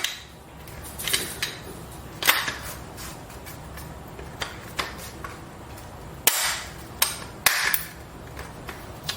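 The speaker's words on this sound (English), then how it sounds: "Get the upper receiver. Slap it on there. Make sure the bolt is forward." A Sig Sauer 522 rifle's upper receiver is slapped and fitted onto the lower, giving a series of sharp metallic clacks and knocks at irregular intervals, close and distinct, with two louder snaps near the end.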